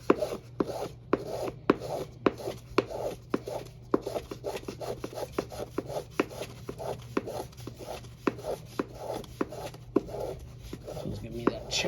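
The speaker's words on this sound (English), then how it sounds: "Little piece of sandpaper away," Sandpaper rubs over carved wooden back braces in steady repeated strokes, a close rhythmic scratching with short sharp ticks, alone.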